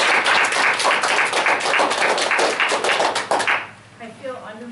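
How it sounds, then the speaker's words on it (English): An audience at a DARE graduation gives dense, steady applause that carries loudly for several seconds, then fades out. A voice begins speaking as the clapping dies away. "give her a warm round of applause."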